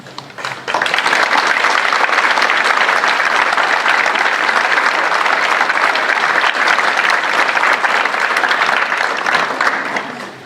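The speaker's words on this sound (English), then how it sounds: "ask that you honor them with a round of applause." Graduation ceremony audience giving the university staff a loud, sustained round of applause, a dense wash of clapping that swells in after a brief pause and holds steady for about ten seconds before tapering off.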